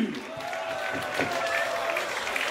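A crowd at a freestyle rap battle applauds the two MCs, a brief, loud burst of clapping and cheering with a voice carrying over it.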